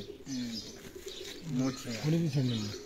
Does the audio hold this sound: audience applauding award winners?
no